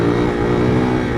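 Motorcycle engine pulling hard in third gear, a dense steady drone that stays loud and close for a brief moment with no talk over it.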